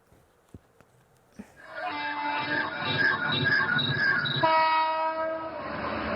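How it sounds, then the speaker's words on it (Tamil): An Amrit Bharat Express passenger train runs past with a loud sustained horn over the rolling rumble of the cars, starting after a few quiet clicks and building to a steady roar. "ये ट्रेन चल रहे हैं न्यू जलपाईगुड़ी से नागरकोइल तक"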